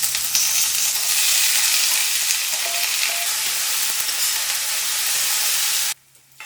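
Chopped brinjal with mustard seeds, chana dal, urad dal and curry leaves sizzles steadily in sesame oil, a loud, dense frying hiss that runs unbroken until it cuts out abruptly near the end.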